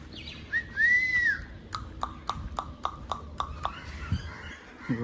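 Several small birds give clear chirps and whistled calls, with one rising-falling whistle near the start and then a rapid run of short sharp notes, close and fairly loud over outdoor background noise.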